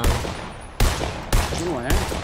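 Bursts of gunfire in a multiplayer shooter video game, three sharp volleys in quick succession over steady background game sound, with voices talking under the shots.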